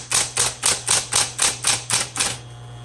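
Typing on a pink 1970s Smith Corona Electra 220 electric typewriter, nine loud, evenly spaced key strikes in a steady rhythm over a constant motor hum, heard up close with no talking.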